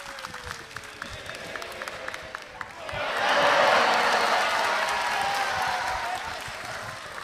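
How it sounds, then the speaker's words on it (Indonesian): A crowd breaks into applause that swells and holds steady, a dense wash of many hands clapping. "Di sini yang dulu anak abah boleh minta tepuk tangan?"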